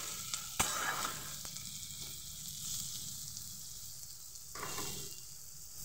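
Onions with whole garlic cloves frying in a pan for a dried lote fish and eggplant dish, a quiet steady sizzle with a few sharp knocks and a brief surge of hiss near the end.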